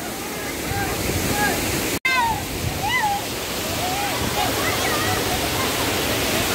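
Mangeli waterfall in the Konkan monsoon sends out a constant, full rushing roar of falling water, with faint chirping or whistling tones drifting over it and a brief dropout partway through.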